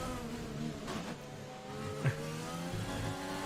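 A race car engine drones and revs in the F1 sim racing game as the car pulls out of the pit exit at the Canadian Grand Prix, a steady mid-distance whine with a brief rise partway through.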